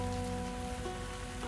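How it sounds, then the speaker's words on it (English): Steady, dense rain patter on a stormy night in the tavern video game Tavern Talk, constant and fairly close, with a faint tonal hum running beneath it. "It was a dark and stormy night."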